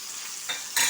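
Onions and green chilies fry in a pan, a steady close sizzle that swells with a stirring scrape near the end. The clip is brief and has no speech.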